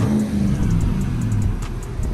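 A lifted truck with True Dude straight pipes, X-pipes and 5-inch exhaust revs loud and close at a Beaumont truck meet, its deep engine note rising and wavering over a constant rumble.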